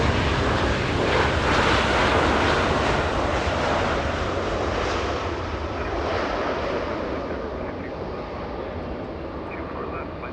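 An Airbus A350 rolls along runway 24 right at Los Angeles International Airport with a loud, sustained jet roar that slowly fades as it moves away, with wind buffeting the microphone.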